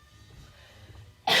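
One loud, close cough bursts out abruptly at the end, after a stretch of quiet indoor background, during banana bread baking in a home kitchen.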